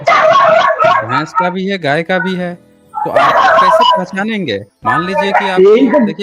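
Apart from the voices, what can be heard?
dog barking behind speaker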